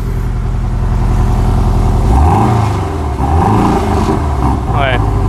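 A Porsche 718 Cayman engine in sport mode, idling with a deep burble before two rising revs climb and fall back, loud and close.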